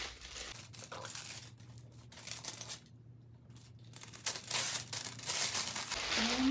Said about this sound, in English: let me just go ahead and unwrap this really quick